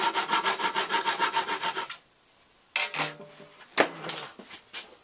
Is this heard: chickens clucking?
no